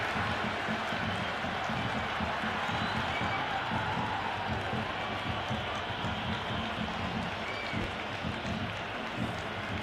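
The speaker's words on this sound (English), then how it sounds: "It's evident and ever so audible that the crowd is at near bursting point at today's play" Stadium crowd at an India versus Pakistan T20 World Cup final cricket match, a dense, steady roar of cheering and clapping sustained throughout, loud and continuous with no single voice standing out.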